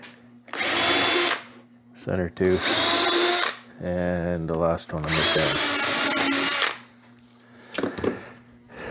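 A power drill whines in several loud bursts as it bores screw holes into pallet wood, with short pauses between runs and someone speaking briefly between them.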